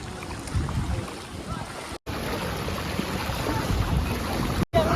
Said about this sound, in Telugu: ఈడ వాటర్ ఫ్లో ఘోరంగా ఉంది అసలు.